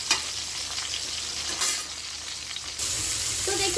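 Pointed gourd (parwal) pieces frying in hot oil in a pan, a continuous soft sizzle with intermittent scraping as the pieces are turned over, steady and close.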